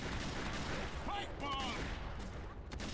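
Gunfire from shooting zombies in Left 4 Dead 2, rapid shots blending into a dense, continuous game soundscape with no clear separate bursts.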